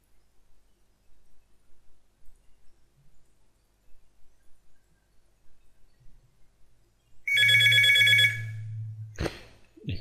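A telephone bell rings loudly in one sustained burst of about two seconds, then stops with a clatter, after a stretch of near silence.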